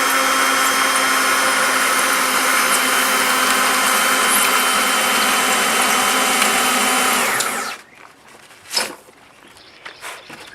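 A power drill runs steadily and loudly for several seconds, then stops, followed by a few faint clatters and handling noises.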